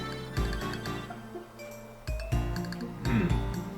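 Glasses clink in a toast over a plate of Southern black-eyed peas with cornbread, several bright, close, ringing taps spread over a few seconds, with a faint voice at the end.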